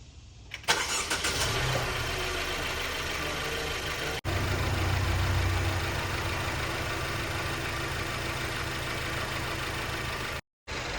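A Mercedes W205 C300 engine starts after a spark plug swap and settles into a steady, loud idle that runs for about ten seconds. The idle cuts out briefly near the end, and no one speaks.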